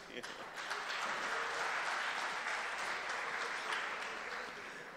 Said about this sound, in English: That means that is your cue for clapping.